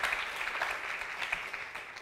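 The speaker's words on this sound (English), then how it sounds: "it's very nice to get applause before I've even said anything" An audience at an academic conference on long-term care gives brief applause, soft, fairly distant clapping that stays fairly even over two seconds.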